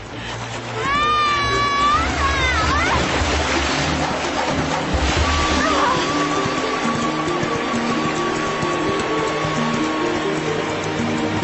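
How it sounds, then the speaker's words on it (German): Fast-flowing river water in an animated cartoon rushes steadily as a broad, continuous roar, with whistling tones and voices over it. "Der Fluss ist zu schnell für mich!"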